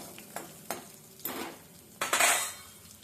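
Garlic sautés in a pan for a sweet-sour yogurt kadhi, a soft sizzle broken by several distinct scraping stirs of a spoon against the pan, the last one longer and louder, close by with no talking.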